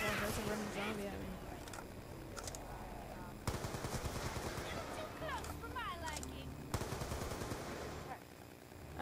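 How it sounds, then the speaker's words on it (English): Rapid bursts of gunfire from shooting zombies in Black Ops 2 Zombies, loud repeated volleys with short pauses between them, with a person talking over the shots. "I keep shooting their heads off, but they can still run a bit"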